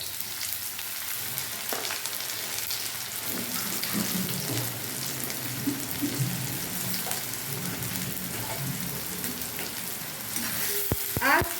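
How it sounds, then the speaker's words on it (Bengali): Chopped medium-sized onions fry lightly in a pan with a steady, even sizzle that runs the whole time, with occasional stirring scrapes and a few clinks near the end and no voices. "আর পেঁয়াজগুলো বেশি ভাজবো না, হালকা হালকা করে বাদামি রঙের মতো হালকা হালকা করে ভাজবো।"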